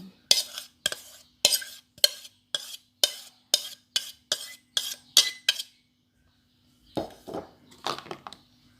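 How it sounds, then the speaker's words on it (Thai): All-purpose wheat flour being sifted, about a dozen evenly spaced scraping taps of a sieve, close and clear, then a pause and a few more irregular rattling shakes. "ร่อนแป้งก่อนนะคะ แป้งสาลีอเนกประสงค์นะคะ 200 กรัม"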